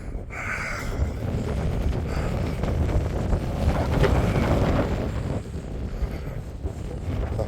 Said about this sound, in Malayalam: പിന്നെ ഞാൻ ഈ കാറ്റിൻ്റെ സൗണ്ട് നെറ്റാക്കാത്തതും മ്യൂട്ടാക്കാത്തതും